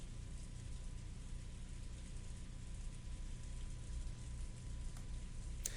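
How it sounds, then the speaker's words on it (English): Gentle rain falls over the Golden Land rose garden in the Umineko visual novel, a soft, steady, even hiss throughout with no voices. "A gentle rain poured down over the Golden Land rose garden."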